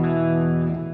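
An Enya XMARI smart electric guitar rings out a sustained chord through a reverb effect, the tone holding steady and slowly fading over about a second.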